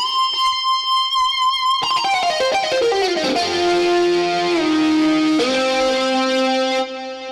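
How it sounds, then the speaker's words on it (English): A big electric lead guitar patch played from a computer rings out in sustained, distorted notes that step downward and then jump back up, loud and on its own, with no talking. "So I'm going to play now big electric lead that says lead"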